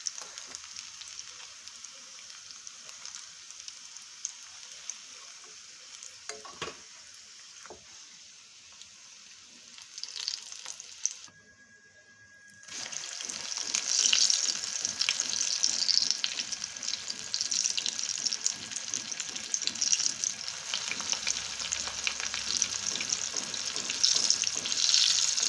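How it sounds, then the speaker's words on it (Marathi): Vegetable-stuffed bread rolls deep-frying in hot oil: a soft steady sizzle that breaks off briefly, then returns louder and denser with fine crackling bubbles, no voices. "आपले ब्रेड रोल्स आता तळून झालेले आहेत."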